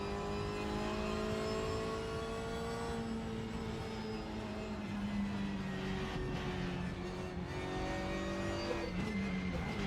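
A GT4 race car's engine in the RaceRoom racing game holds a steady, sustained note, with harmonics rising and falling through gear changes and shifting pitch as other cars run close by.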